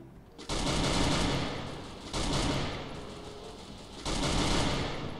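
Automatic gunfire from a Sorte Royale battle royale match comes in three long, loud, close bursts of rapid shots, each lasting over a second and separated by brief gaps.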